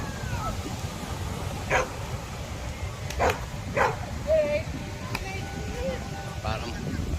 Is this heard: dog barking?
yes